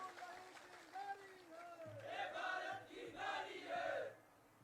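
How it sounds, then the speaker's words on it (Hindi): A crowd at a Himachal political rally with Chief Minister Jairam Thakur, erupting in loud, sustained cheering and applause after a voice speaks over the address system. "एक बार जोरदार ताली उनके लिए होनी चाहिए।"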